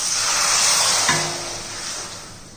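Loud steady hiss of about 1.5 glasses of water poured into a hot pan of sautéed masala, the sizzle swelling and then easing slightly as it settles, with a brief clink partway through.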